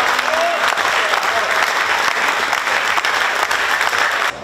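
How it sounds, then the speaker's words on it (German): Applause from the audience at the opening of the 2019 Wachau folk festival in Austria, a dense, steady round of clapping heard close and loud for several seconds before cutting off. "Und das ist jetzt noch einmal dein besonderer Applaus."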